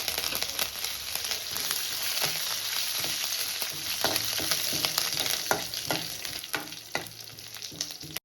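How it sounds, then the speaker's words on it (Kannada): Curry leaves fry in a pan over a low flame, giving a steady soft sizzle with scattered small pops and crackles throughout. "ಇದನ್ನು ಲೋ ಫ್ಲೇಮಲ್ಲಿ ಫ್ರೈ ಮಾಡ್ಕೋತಾ ಇದ್ದೀನಿ. ಇದ್ರ ಜೊತೆ ಕರಿಬೇವನ್ನ ಇವಾಗ ಆ್ಯಡ್ ಮಾಡ್ಕೋತಾ ಇದ್ದೀನಿ."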